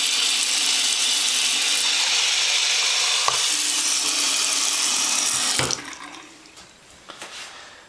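Tap water pours steadily into a sink as a loud, even rush, then cuts off abruptly partway through, leaving faint drips and small handling clatter.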